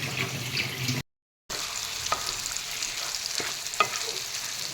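Chicken and cauliflower curry sizzles steadily in a pan while a spoon scrapes and stirs through it. Several soft knocks sound against the pan, and the cooking noise stays close and moderate, with one brief dropout.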